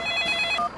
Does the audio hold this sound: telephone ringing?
yes